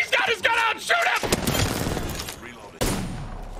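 Gunfire in the Apex Legends video game, a burst of sharp shots and cracks right after a player speaks, with a second loud crack near the end.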